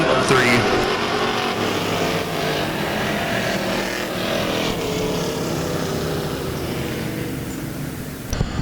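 Race cars roaring around Lake Ozark Speedway during heat laps, a dense, continuous engine drone that stays loud and steady throughout with a broad wash of noise.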